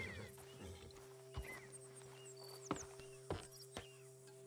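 A horse in the Red Dead Redemption 2 video game whinnies and snorts while hooves thud in sharp separate clip-clops, close and clear over a low steady hum, with distant bird calls.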